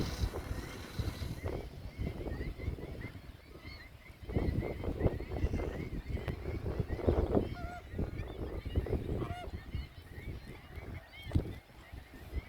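A large flock of flamingos honks and calls continuously, many overlapping voices close and far, with a steady outdoor background in the desert.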